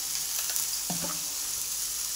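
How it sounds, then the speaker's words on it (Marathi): Potato and other ingredients sizzle in hot oil for a fasting dosa filling, a steady loud hiss with a soft scrape of a spoon stirring partway through. "आता आपण हे तेलामध्ये चांगलं हलवून घेऊया"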